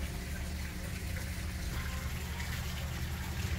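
Water flows steadily from one aquaculture pond into the next in a recirculating Azolla pond system, a constant broadband rush with no pauses or voices.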